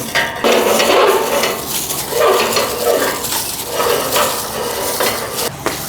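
Metal parts clatter and scrape while a thicker gauge plate is removed from a Valley Sportsman meat grinder and a thinner one fitted, steady close clanking with a few sharper knocks.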